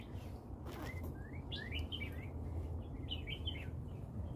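Several birds in a forest trade quick, high chirps and short twittering calls over a low, steady background rumble.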